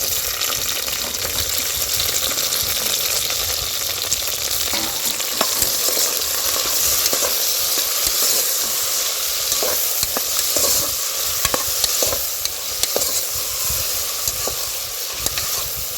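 Green chilies fry in hot oil in a pan, giving a continuous dense sizzle with frequent clicks and scrapes of a spoon stirring, fairly loud and steady throughout, no voices.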